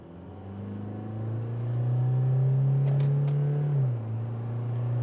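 A 2023 Toyota HiLux Rogue's 2.8 litre engine in sport mode with a 6-speed automatic revs up strongly on a downshift, a loud, close drone rising and holding, then dropping back abruptly to a lower steady hum.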